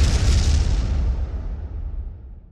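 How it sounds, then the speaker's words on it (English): Cartoon explosion from a dangerous lab formula, a loud booming blast with a heavy low rumble that slowly dies away, alone without talk. "an explosion occurred"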